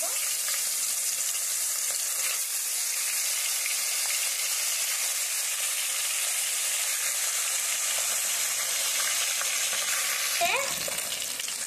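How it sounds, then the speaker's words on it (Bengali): Koi fish fries in hot oil in a wok, a continuous even sizzle with a fine crackle, steady and close throughout, with a brief stir or scrape near the end. "কড়াইয়ে তেল দিয়েছি, গরম হয়ে গেছে। এখন আমি মাছটাকে ভেজে নেব।"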